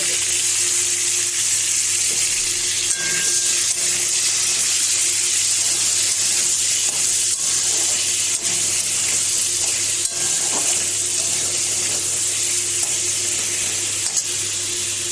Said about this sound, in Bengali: এবার ওই তেলের মধ্যেই আমি এই গাজর আর ক্যাপসিকামটা ভেজে